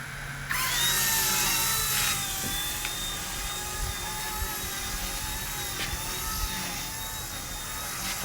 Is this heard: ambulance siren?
no